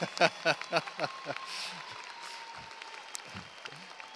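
Graduation ceremony audience clapping, a short burst of sharp, separate claps that quickly thins into sparse scattered hands and faint room murmur, heard from a distance.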